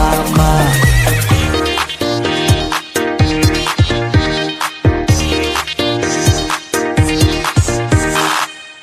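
A horse neighing sound effect opens with a loud whinny, then galloping clip-clop hoofbeats pound in a steady, driving rhythm through a church song at a children's Vacation Bible School event, loud and close throughout.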